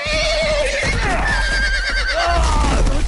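A horse in the Game of Thrones Telltale video game lets out a loud, wavering neigh that rises and falls across a few seconds, backed by a steady low rumble.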